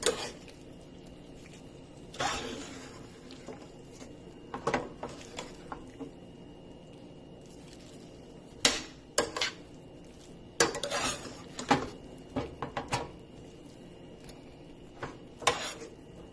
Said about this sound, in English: I'm going to stir everything together.